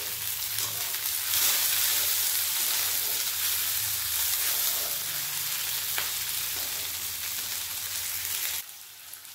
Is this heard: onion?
yes